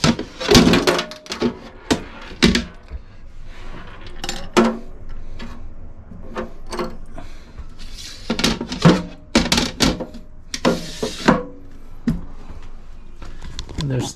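Hard plastic and metal clatter as a cutting board is set into the small sink of an Airstream travel trailer kitchen, several sharp knocks and bumps amid ongoing talk.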